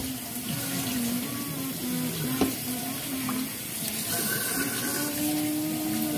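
Hot chocolate being poured makes a steady, close liquid stream, splashing and gurgling the whole time, with the pitch shifting slightly as it fills.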